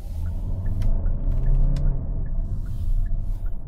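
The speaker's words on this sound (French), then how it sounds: "J'entends le moteur, il reste à des régimes plus élevés" A 2025 Hyundai Santa Fe engine in sport mode, a steady low rumble that holds high revs while accelerating inside the cabin, with no voices over it.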